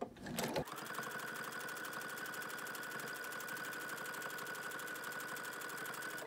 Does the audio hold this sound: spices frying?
no